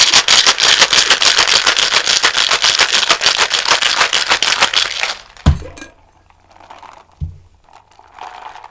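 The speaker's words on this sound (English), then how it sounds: "now we have all our ingredients in the shaker. Let's mix this thing up" Cocktail ingredients shaken hard in a shaker give a loud, rapid rattle that lasts about five seconds, then ends in a couple of sharp knocks and quieter handling.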